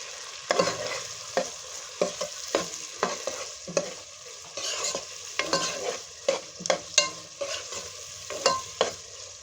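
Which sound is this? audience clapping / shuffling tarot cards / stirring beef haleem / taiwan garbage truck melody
stirring beef haleem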